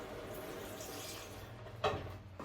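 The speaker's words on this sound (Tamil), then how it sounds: "போட்டுட்டு இந்த தண்ணி பாலை விட போகிறோம்" Thin coconut milk poured into a pot of salted, turmeric-seasoned curry base for a ridge gourd and lentil curry, a soft steady liquid trickle with a brief louder splash near the end.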